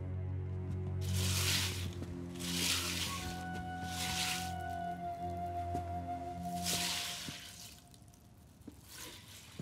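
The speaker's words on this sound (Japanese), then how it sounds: "ややこしいタイミングで小豆洗うな。" Azuki beans washed in water, heard as several wet sloshing, swishing bursts that come in repeated strokes, fairly close, with a tonal background underneath.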